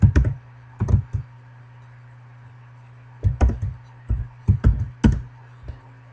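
Computer keyboard keys clatter in quick bursts of typing code, crisp and close, separated by short pauses with a faint steady hum underneath.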